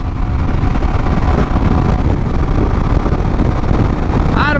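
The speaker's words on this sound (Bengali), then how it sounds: "এই বাইকের স্টক ফাটাফাটি অস্থির সাউন্ড অস্থির" A stock-exhaust Suzuki GSX motorcycle running at speed, around 130, gives a loud, steady roar buried in heavy wind rush throughout, with a brief rising whine near the end.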